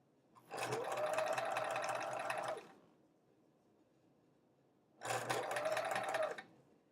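A sewing machine stitches a quilt block for an "I Love Home" block-of-the-month quilt in two steady runs of rapid whirring, each lasting a couple of seconds, separated by a quiet pause.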